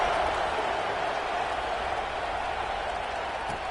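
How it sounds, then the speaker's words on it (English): A stadium crowd at a football game in a video game roars in a steady, continuous wash of cheering and murmur, fairly loud and even throughout with no distinct voices on top. "Kickoff unit is out there again, and this crowd is feeling themselves after that last drive"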